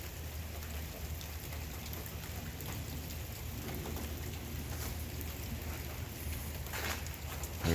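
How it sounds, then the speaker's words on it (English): Steady rain pours down on a garden outdoors, a dense, even hiss with soft pattering that holds throughout at moderate level, with no voices. "It's kind of relaxing though to listen to the rain."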